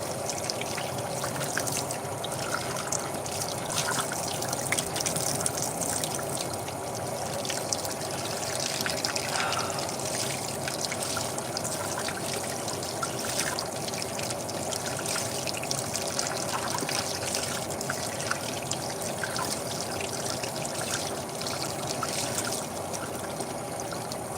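Dirty, sudsy water pours and trickles steadily throughout, a continuous close splashing stream with no talk over it.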